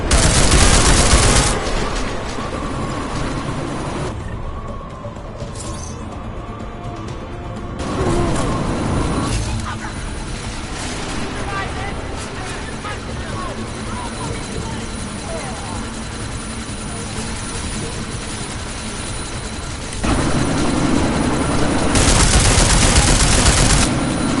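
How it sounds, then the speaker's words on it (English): Helicopter rotor drone mixed with bursts of gunfire in the video game Deus Ex: Mankind Divided, loud and continuous, with heavier intense stretches at the start and end and voices talking throughout. "you need to disable that chopper"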